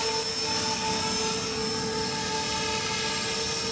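An HK450 radio-controlled helicopter flying, giving a steady high-pitched rotor and motor whine with a constant hum, close and even for several seconds with no talking.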